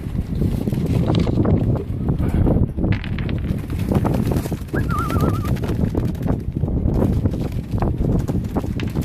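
Young racing pigeons cooing inside a loft, a low rhythmic burbling of many birds running throughout, loud and close amid shuffling, fluttering and a steady rumbling background, with no talking.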